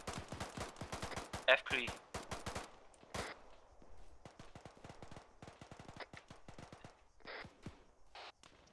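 Rapid bursts of machine-gun fire in a military combat video game ring out sharply at first, followed by scattered single shots and a few distant blasts, with radio chatter running underneath.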